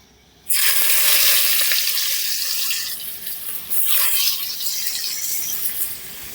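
Sliced onions hit hot oil in a pan for a potato and chicken curry, bursting into a loud, steady sizzle that holds for several seconds with slight dips as they settle.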